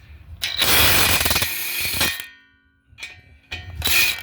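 Ratchet loosening an 18mm nut on the passenger-side front CV axle of a 2017 Ford Escape 1.5L, heard as rapid close metallic clicking in several bursts separated by brief pauses.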